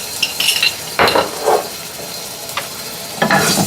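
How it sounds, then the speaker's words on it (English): Garlic drops into hot oil in a pan for Thai stir-fried cabbage, giving short sizzling bursts mixed with clinks of a utensil stirring against the pan, close and fairly loud. "when the oil is hot, I'm gonna put a little bit of garlic in it"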